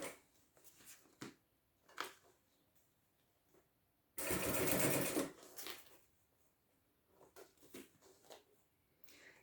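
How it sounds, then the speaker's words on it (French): A sewing machine stitches folded bias binding along a pouch edge in a fast, whirring burst of about a second and a half, set between quieter clicks and handling of fabric close by. "je plie toujours mon biais en deux et je pique au bord"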